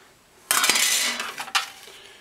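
A FASCO blower fan on an AO Smith direct-vent water heater, its worn bearing giving a harsh metallic scraping that starts abruptly and grinds on for about a second. A second sharp scrape follows before it fades, heard up close.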